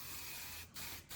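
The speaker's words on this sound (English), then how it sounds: "I'm not gonna do anything to them except for use a little spray wax over the top." Spray wax hisses from a can onto hair curls in two short close bursts, each followed by a brief pause, with no talking.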